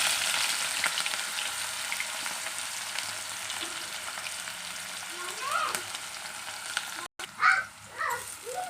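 Chopped onion frying in hot oil in a pan for potato curry, with a steady sizzle throughout and a louder crackle after a brief break near the end.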